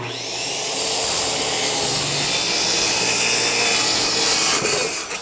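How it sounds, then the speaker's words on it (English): A saw cuts through plywood set on a 2x4 in a driveway, making a loud, sustained rasping buzz that ramps up over the first second and runs steadily to the end. "Setting your plywood up on a 2x4 in the driveway is a great way to do cutting."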